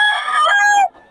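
A bullstag gamecock crows once, loud and close, a brief strained call that cuts off abruptly.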